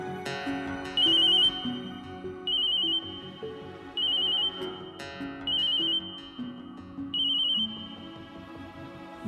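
A mobile phone ringtone repeats five times in regular bursts, a bright electronic trill over a melodic background tune, fairly clear and steady.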